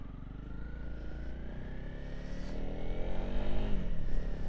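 A Honda CRF300 Rally motorcycle engine rises steadily in pitch as it accelerates while riding, a close droning rev that grows louder toward the end, with wind noise and no talk.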